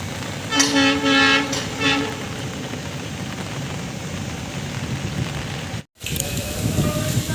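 A few short train horn toots sound early, followed by a steady rumbling roar of a passing train, briefly cut out then resuming, in rain.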